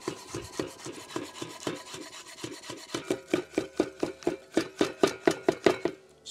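Chef's knife finely chopping beef for tartare on a board, a steady run of sharp rhythmic taps that grows louder and quicker toward the end, with no talking.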